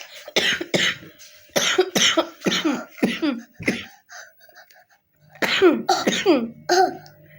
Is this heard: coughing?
yes